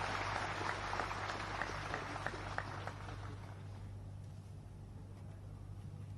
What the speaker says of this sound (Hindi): आप सभी की तालियों की गड़गड़ाहट के साथ उन्हें बुलाते हैं।